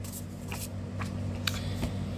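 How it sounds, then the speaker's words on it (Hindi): Tarot cards being shuffled in a few soft, papery riffling bursts, close by, over a steady low background hum. "last shuffle"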